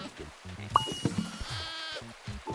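A sheep bleats loudly in the video game Moving Out 2, a wavering, drawn-out call in the middle, while someone talks over the game sounds.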